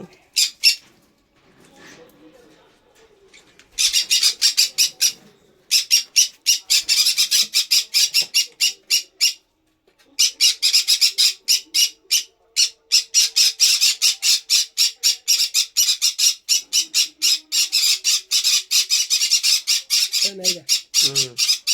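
Red factor conure chicks squawk close by in rapid, harsh bursts, repeated many times in dense runs after a quieter start, with a brief pause midway and a short voiced sound near the end.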